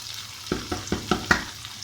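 Minced meat frying with spices, stirred in a pan: four or five rhythmic spoon strokes scrape and clack over a low sizzle, close and fairly loud.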